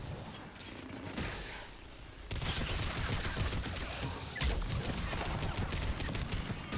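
Engineer's turret firing in Mass Effect 3, a rapid stream of automatic shots under dense, loud combat noise that grows busier partway through.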